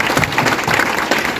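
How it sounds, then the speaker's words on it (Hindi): Audience applause at a Vestige corporate business meeting, a steady crowd clapping that fills the short moment at fairly close range without any talking. "तालियां होनी चाहिए इसके लिए।"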